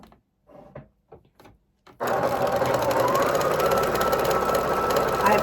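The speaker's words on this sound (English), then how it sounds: "This machine is a lot louder than my other machine. This machine is just a straight stitch, but boy, does it work." Straight-stitch sewing machine runs loud and steady, joining sashing strips to a scrappy quilt block, a continuous mechanical whir with rapid needle chatter after a few soft handling sounds.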